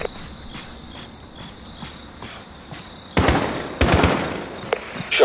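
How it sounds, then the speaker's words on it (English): Gunfire in the Call of Duty mission Going Dark starts after a quiet stretch of night ambience with crickets, then sharp loud shots ring out in short bursts, echoing near the end. "Shot's fired."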